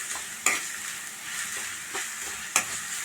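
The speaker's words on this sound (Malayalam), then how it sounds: "ഇതൊന്ന് ഫ്രൈ ആയിട്ട് നമുക്ക് കിട്ടണം." Ginger garlic paste and curry leaves sizzle and fry in a pan, a steady hiss broken by two sharp clinks of a stirring utensil against the pan; close and moderately quiet with no talking.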